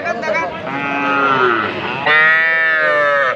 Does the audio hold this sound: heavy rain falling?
no